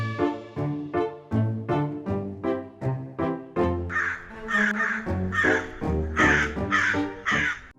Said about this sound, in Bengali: কাক ব্যথায় গড় করছে।